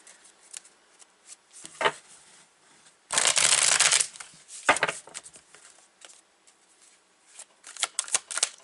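Tarot cards are shuffled by hand in a few rustling bursts, with one longer riffling flutter in the middle and scattered soft card taps and slides, close and fairly quiet.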